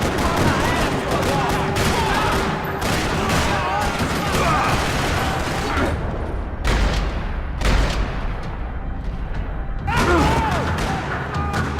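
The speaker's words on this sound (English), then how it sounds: "Another parking lot rattling with gunfire." Dense, rattling gunfire in a parking lot in the video game Max Payne, with repeated bursts and heavy thumps, continuous and chaotic throughout, with faint voices mixed into the din.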